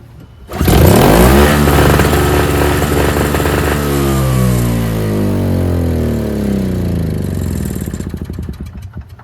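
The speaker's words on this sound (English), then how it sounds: "It pull starts easily." The small two-stroke engine of a NOMA 4.5 21-inch single-stage snowblower fires up after a pull start and runs loudly, its pitch rising and settling into a steady, buzzy idle before trailing off.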